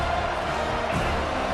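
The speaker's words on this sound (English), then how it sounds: "this crowd, full throat, splitting the eardrums" Stadium crowd roaring in the video game College Football 25, a dense, continuous wash of cheering from a full-throated crowd, loud and sustained across the short moment.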